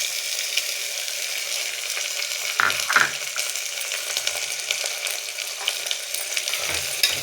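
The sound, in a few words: stirring potato, tomato and green peas frying in pan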